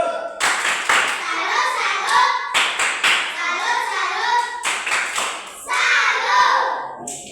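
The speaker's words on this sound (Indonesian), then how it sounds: "Tepuk tangan untuk lanjut. Tepuk salut." Schoolchildren in a classroom clap their hands together in a short patterned cheer, several quick bursts of sharp claps repeated three times, loud and close with children's voices mixed in.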